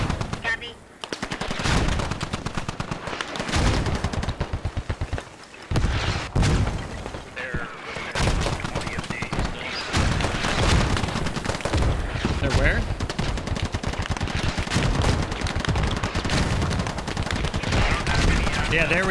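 Mortar and small-arms fire in the tactical shooter Squad, set in an Afghanistan battle, with dense, continuous bursts of gunfire and booming impacts throughout, while players talk over the combat.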